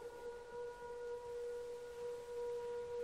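Tornado warning sirens wail from a Minecraft weather mod, a steady sustained tone held without pause, heard faint and distant over a quiet background.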